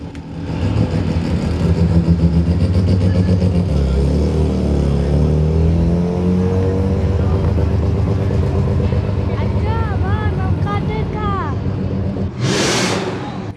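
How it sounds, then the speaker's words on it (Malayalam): A rotary-engined car drives up with a loud, sustained engine drone that rises and shifts in pitch as it approaches, heard nearby over a person talking throughout. "വരുന്ന അടുത്ത റോട്ടറി എഞ്ചിൻ"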